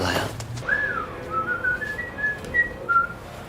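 A person whistles a short, wandering tune of clear sustained notes, close and distinct over quiet indoor room sound.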